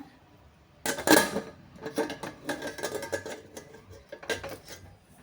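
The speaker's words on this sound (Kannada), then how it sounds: "ಕುಕ್ಕರ್ ಮುಚ್ಚಿದ್ದೀನಿ." Metal pressure cooker lid being handled and closed in a home kitchen while cooking dal, a few close clanks and scraping knocks of metal, the loudest near the start, then lighter rattles.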